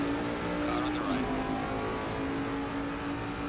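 A race car engine in the ACC (Assetto Corsa Competizione) video game, a steady high-revving whine with a shifting pitch as another car runs alongside on the right, loud and continuous under faint talk.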